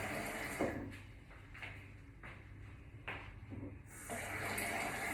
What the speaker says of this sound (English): I'm going to add a bit more water.